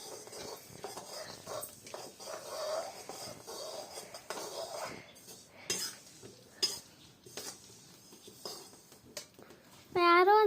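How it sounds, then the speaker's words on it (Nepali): Sesame seeds being dry-roasted in a pan for til laddu, with scattered clinks and scraping of a utensil against the metal pan, light and irregular throughout, ending in a loud unrelated tonal burst. "भोलि माघे संक्रान्ति होइन र, त्यही भएर तिल भुट्दैछु म।"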